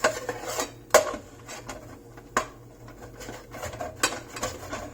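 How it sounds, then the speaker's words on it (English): A spoon scrapes and stirs roux in a pot while making jambalaya, with intermittent sharp metallic clanks against the pot and softer scraping between, close and fairly quiet, irregular in rhythm. "That's going to mean a lot of scraping and a lot of stirring."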